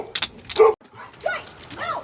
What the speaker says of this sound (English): There's a lot of barking in there